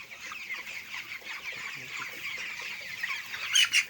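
Broiler chickens about nineteen days old cluck on a farm, a steady murmur of soft overlapping clucks at moderate distance, growing louder and busier near the end, with no talk.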